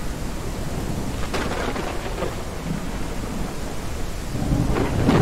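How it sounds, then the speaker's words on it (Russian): Steady rain falls in the Trans-Siberian Legends video game, with a low rumble of thunder rolling through; the downpour is continuous and fairly loud, with no voices. "О, дождь."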